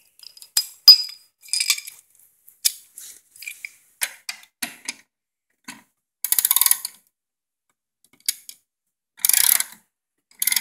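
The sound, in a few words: socket and ratchet tightening a bolt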